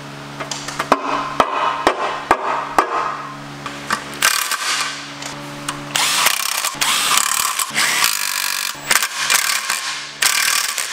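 Ratchet wrench clicking as oil pan bolts are tightened on a Porsche 944 with a five-cylinder engine swap, in bursts of rapid pawl clicks interspersed with brief pauses and tool clatter in a garage.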